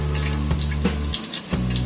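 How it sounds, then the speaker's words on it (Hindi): Water splashed into onions browning in oil for moong dal, bursts of crackling sputter and bright sizzling ticks over a steady low hum, close and moderately loud, with a brief lull before resuming. "अब इसके अंदर आप थोड़ा सा पानी ऐड कर दें"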